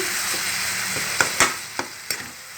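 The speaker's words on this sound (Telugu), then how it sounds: "ఒక చెంచాడు అల్లం వెల్లుల్లి పేస్ట్ వేసుకుందాం" Ginger garlic paste fries in a hot pan for a tomato curry, giving a steady close sizzle. A few sharp clinks and scrapes of stirring break through it, and no one talks.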